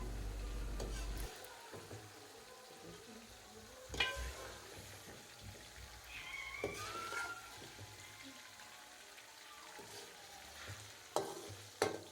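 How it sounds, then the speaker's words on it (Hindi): Okra frying in oil in a pan, a soft steady sizzle with occasional stirring scrapes and clinks, fairly quiet and close. "भिंडी फ्राई हो चुकी है, अब भिंडी को हम निकालेंगे।"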